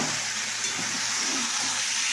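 Spiced food fries in a pan with a steady, close, loud sizzle and crackle, with some soft stirring underneath.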